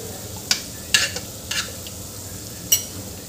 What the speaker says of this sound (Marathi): आता इथे यामध्ये आपल्याला घोटून घेतलेलं वरण घालून घ्यायचं आहे।